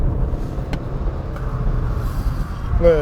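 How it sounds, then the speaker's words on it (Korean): A 2019 BMW 320d with its 2-litre diesel engine pulls away in sport mode, a steady low engine rumble with road and cabin noise heard from inside the car, continuous and fairly loud throughout. "그럼 한번 가볍게 달려볼까요? 주행 모드는 임시적으로 스포츠 모드로 설정을 했습니다"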